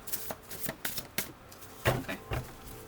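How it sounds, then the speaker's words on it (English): Tarot cards are shuffled by hand close up: soft, separate papery taps and slaps come in an uneven rhythm, quiet overall, with no voice. "All right, we'll do one more shuffle."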